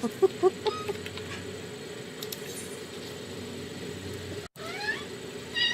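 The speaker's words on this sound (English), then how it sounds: "The cat's talking to me." A cat indoors makes a few short, faint meow-like calls at the start and again near the end, over a quiet room hum.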